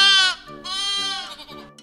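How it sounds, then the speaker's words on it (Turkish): A goat bleats twice, close and clear, with a short wavering cry followed by a longer quavering one, with no talk over it. "Keçiler me diye ses çıkarır."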